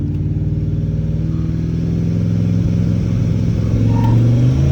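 Car engine held on a two-step launch limiter with brakes set, a loud, close, steady stuttering rev that hums and crackles continuously, rising slightly in intensity toward the end.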